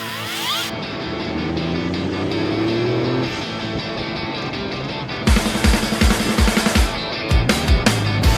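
A convoy of 4x4 cars sets off from Nana Glen Showground near Coffs Harbour toward bush tracks, with engines idling and revving close by, then a burst of sharp engine pulses and gear changes as vehicles pull away one after another.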